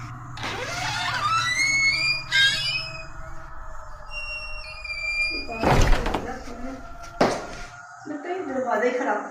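A faulty house door creaks and squeals on its hinges, then bangs shut twice in loud, sharp thuds, with moaning, tonal sounds between the hits.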